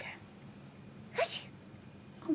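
A single sharp sneeze bursts out midway over a quiet room, with a few brief spoken words before and after it.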